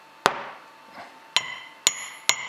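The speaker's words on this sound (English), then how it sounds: "That's really heavy. I probably should weigh it, but let's go ahead and set that down." A heavy metal-based MDK fly tying vise is set down on a hard surface, giving four sharp knocks with ringing metallic resonance, spaced unevenly, close and fairly loud with no talking.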